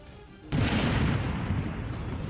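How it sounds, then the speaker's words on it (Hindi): A landmine detonation: a sudden deep boom erupts after a brief quiet stretch, then a sustained loud roar and rumble lingers, like a large outdoor blast. "इस दौरान वहां तेज धमाका हुआ।"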